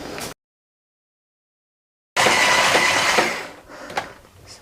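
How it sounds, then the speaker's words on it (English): Cream with a tablespoon of Biscoff spread being whisked toward soft peaks, a steady whirring hiss starting abruptly after a silent gap and fading out a second or so later. "now we're going to whisk this until we have soft peaks"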